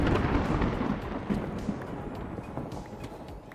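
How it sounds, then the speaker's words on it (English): Rumbling thunder in a Minecraft world, a low rolling roar that swells at the start and slowly fades, with faint clicks over it. "The thunder sounds hype"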